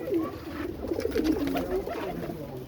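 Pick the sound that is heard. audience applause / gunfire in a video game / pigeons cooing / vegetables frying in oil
pigeons cooing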